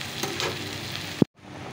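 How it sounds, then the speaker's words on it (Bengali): Steady sizzling in a pan of chicken cooking with tomato and onion as gravy goes in, capped by a single sharp clack before the sizzle drops briefly and resumes. "ঝোলটা দিয়ে দেবো এখন।"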